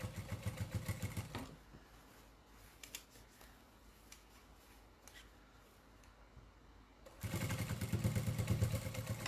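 Home sewing machine stitching through fabric pieces of a cathedral windows table runner, a steady rapid mechanical whir and clatter heard loud at the start, dropping away to quiet handling, then resuming strongly near the end.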